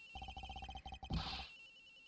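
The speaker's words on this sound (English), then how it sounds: "The ring's coming from in here," Cell phone ringing from inside a suitcase in the Ace Attorney Investigations video game, a rapid repeating electronic trill in quick bursts, fairly close and clear, ending in a brief rustling thump.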